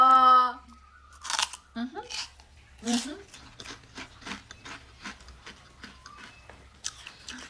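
Close, crisp crunching of chicharon (pork rinds) being bitten and chewed, in uneven bursts with pauses between bites, loud at the start and then steady, with speech-like sounds mixed in.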